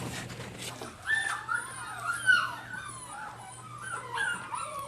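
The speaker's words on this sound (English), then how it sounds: "You can hear the dogs now. Yeah, there's pups in there, for definite." Weeks-old puppies huddled together in a puppy farm whimper and yip in high, thin whines, with several overlapping cries rising and falling close by over a low steady hum.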